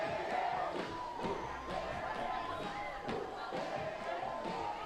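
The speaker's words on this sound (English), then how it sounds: "crowd is alive after that play" Crowd noise at a women's American football championship game between the USA and Canada, a broad roar of cheering with scattered shouts and thumps, steady and fairly distant, with people speaking over it.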